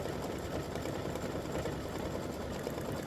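An embroidery machine stitches the white laces onto the footballs of a football turkey applique block, a steady close mechanical whir with fast, even needle chatter running without a break.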